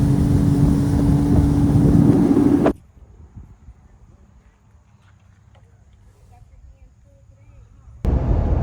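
A Sea-Doo personal watercraft riding across open water, its engine drone and wind rush loud and close for nearly three seconds, then cutting to quiet wind and water before the roar returns near the end.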